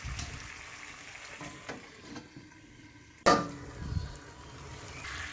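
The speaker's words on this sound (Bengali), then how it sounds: "তো ঢাকনা খুলে চিকেনটাকে কষিয়ে নিচ্ছি ভালো করে" Chicken with tomato frying in mustard oil in a pan, with a soft, steady sizzle, stirring scrapes and one sharp clatter partway through.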